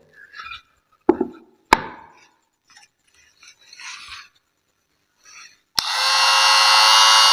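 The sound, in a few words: homemade mini drill/cutter machine with 775 DC motor running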